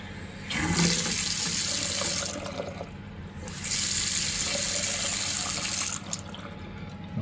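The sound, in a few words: water running through a repaired tap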